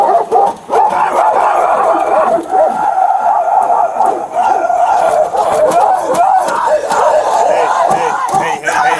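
A woman seated in a police squad car barks aggressively at a police dog, her voice imitating loud, harsh, continuous barks and yelps that stay close and intense with only brief dips.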